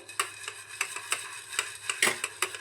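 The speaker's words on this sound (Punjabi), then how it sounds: "ਇਸ ਤਰੀਕੇ ਨਾਲ ਆਪਾਂ ਕੁੱਕਰ ਨੂੰ ਹਿਲਾਵਾਂਗੇ" Black chickpeas roasting dry in a covered pressure cooker, with no sand, as the cooker is shaken: a steady run of sharp rattling bursts about three per second, close and moderately loud, with no talk.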